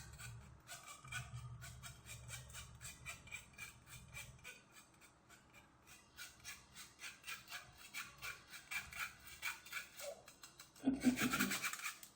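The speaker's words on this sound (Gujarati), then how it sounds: "બસો ગ્રામ મિલ્ક પાવડર લેશું પચાસ ગ્રામ કોકો પાવડર લેશું ચાળી લેશું મિક્સ કરી લેશું" Sifting milk powder and cocoa powder through a sieve, a soft rhythmic scratchy rasping of repeated shakes, faint and close, growing slightly louder toward the end.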